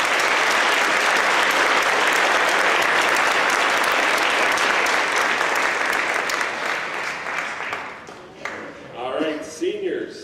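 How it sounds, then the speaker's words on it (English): Sustained applause from an audience at a high school academic awards ceremony, honoring juniors; loud, dense clapping for about eight seconds, then thinning out with scattered claps and a few voices as it fades. "a round of applause for our juniors"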